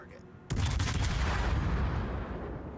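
Cruiser main guns firing HE shells in World of Warships, on a Tier 8 Baltimore: a sudden booming salvo that rolls on in a long, heavy rumble, loud and sustained over low game ambience.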